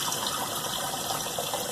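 Running water splashing as a face is rinsed after a wet shave with a Merkur Futur razor, a continuous close gushing rush like a tap filling the hands, with no speech.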